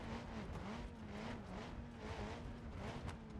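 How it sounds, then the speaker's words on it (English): A modded electric car in BeamNG slides around a corner, a faint steady tire hiss and whine with a wavering tone, quiet and unbroken for a few seconds. "A little skid around the corner here."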